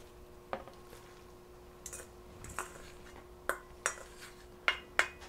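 Spinach being stirred into a hot cheddar cheese dip, heard as a handful of soft, irregular clinks and taps of a utensil against the dish, close and fairly quiet with gaps between strokes and no talking.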